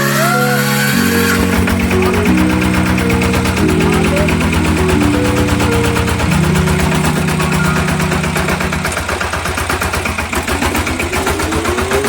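A farm tractor engine runs loud and close throughout, a steady low mechanical thrum with a rapid rhythmic knock that shifts pitch as it revs and settles, with no voices over it.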